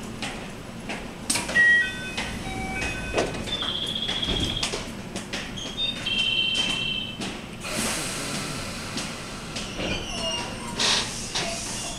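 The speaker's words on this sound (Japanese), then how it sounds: "行きが発車しますドアが閉まりますご注意ください" Station ambience at Kusatsu or Zeze on the JR West line, with a rumbling train, hissing door mechanisms and chimes as doors slide shut, then the train pulls away amid a muffled announcement.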